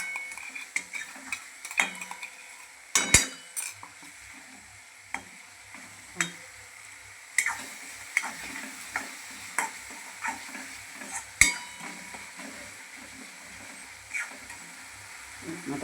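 A spoon stirs green chillies, garlic paste, cumin, mustard seeds and tomato as they fry in a pan, with soft sizzling under repeated sharp scrapes and taps of metal that come in bursts.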